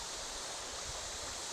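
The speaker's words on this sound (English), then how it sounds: "Just the water." Rushing high water on a swollen bass-fishing river, a steady, close, even roar of flowing current with no voices or other sounds.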